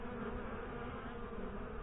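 A dense swarm of honey bees hums around a beehive on a sunny day, making a steady, close, continuous buzz with no voices.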